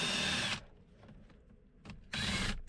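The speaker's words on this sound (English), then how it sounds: "We're going to drill the ignition switch out." A power drill bores into a plastic GM ignition lock cylinder on a car, two loud close whirring bursts separated by a quieter pause with faint scraping and handling noises.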